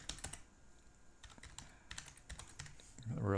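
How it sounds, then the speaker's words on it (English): Keystrokes on a computer keyboard tapped in short irregular bursts, close and fairly quiet, with a louder rustle or movement at the end. "Let's just type something in"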